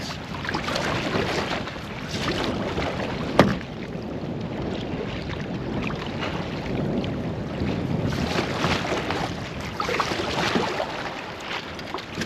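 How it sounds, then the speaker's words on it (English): Wind blows steadily across Alouette Lake, making a continuous rushing roar and buffeting the microphone, with one brief sharp knock partway through. "A little more wind this time"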